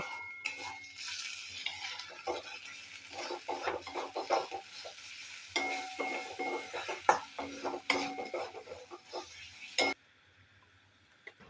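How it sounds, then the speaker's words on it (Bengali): Coriander, cumin, garam masala and red chilli powders are stirred together in a pan for egg korma, with quiet, irregular spoon scrapes and clinks over a soft sizzle that stops abruptly near the end. "লাল লঙ্কার গুঁড়ো হাফ চামচ দিয়ে ভালোভাবে আমি মিশিয়ে নেব"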